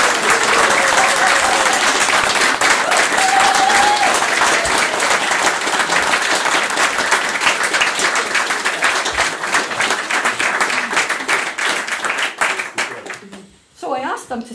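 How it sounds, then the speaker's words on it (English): Wedding guests break into loud, raucous applause and clapping that fills the room continuously for over twelve seconds, then fades briefly near the end before a last burst. "that, my friends, deserves the most raucous applause that you can muster"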